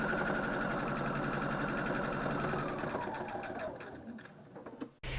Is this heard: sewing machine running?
yes